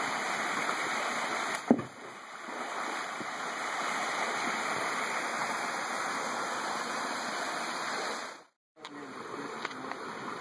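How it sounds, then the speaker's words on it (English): Waterfall on Indian Creek along the Buffalo River, a steady broad rushing roar heard from nearby, with a brief dropout near the end. "Waterfall you can see"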